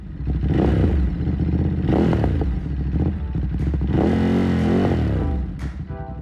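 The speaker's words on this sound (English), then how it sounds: "grab yourself a Monster, fit it with a Termi exhaust" A Ducati Monster motorcycle fitted with a Termignoni exhaust revs loudly and steadily, its engine note rising and falling through several throttle blips before easing off near the end.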